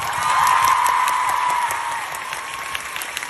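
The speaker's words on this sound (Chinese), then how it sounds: "ขอเสียงปรบมือให้พวกเราทีนึงได้ไหม" A large concert audience at a world tour stop in Taipei breaks into loud sustained applause and cheering, which swells and then slowly thins out.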